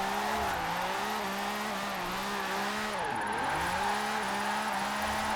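A small British classic car in Forza Horizon 4 revs hard near 9,000 rpm, its engine note rising and dipping with a brief tire squeal, steady and close throughout without talk.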